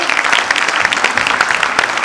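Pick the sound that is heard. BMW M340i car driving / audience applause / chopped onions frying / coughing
audience applause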